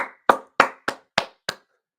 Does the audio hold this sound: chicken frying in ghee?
no